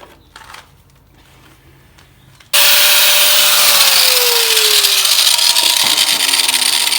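A power saw starts abruptly and bites loudly into a very rusty Volkswagen Bus frame, giving a harsh, continuous grinding rasp with a shifting pitch after quiet rustling.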